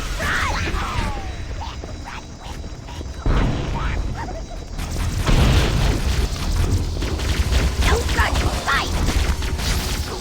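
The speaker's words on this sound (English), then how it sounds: "that grenade just barely missed me" Halo: Combat Evolved gameplay with a grenade exploding close by, a loud burst followed by rumbling, sustained battle noise and mechanical clatter, with a voice talking over the action.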